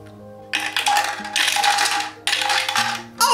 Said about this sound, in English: There's just something satisfying about rolling dice in a dice tower.